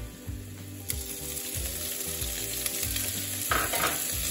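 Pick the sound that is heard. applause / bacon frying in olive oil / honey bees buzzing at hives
bacon frying in olive oil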